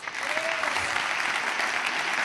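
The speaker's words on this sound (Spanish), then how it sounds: "un aplauso a la actitud joven" An audience at a stand-up comedy show breaks into full, dense applause, a steady wash of clapping that lasts briefly and stays loud throughout.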